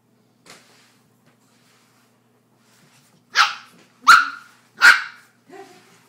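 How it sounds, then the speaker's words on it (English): A dog barks in a quiet room while playing with a golden retriever and a Sheltie puppy: one faint early yap, then three loud close barks in quick succession and a softer fourth. "Don't bark."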